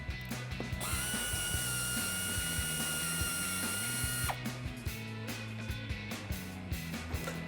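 Close, steady clicking of a hand ratchet loosening the 15mm nut on a sway bar end link of a 1994-2004 Mustang GT, with a continuous high whine from a tool or compressor in the background.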